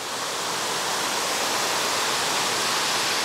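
Fountain water pours steadily near a stadium in Galitsky Park, Krasnodar, a sheltered spot where one can sit inside the falling curtain; the rush is close, loud and continuous, a dense even hiss with no voices.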